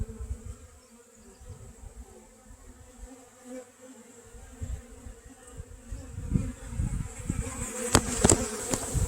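Saskatraz honeybees hum and buzz around open hive frames outdoors on a warm day, a soft, continuous drone with individual bees swelling closer and louder toward the end, ending in a few sharp knocks.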